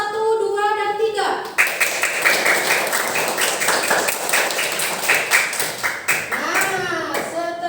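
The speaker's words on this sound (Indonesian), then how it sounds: "Tepuk tangan untuk kelompok 1, 2, dan 3." A classroom full of people clapping together, dense and steady for several seconds after a brief spoken line, with voices mixed in.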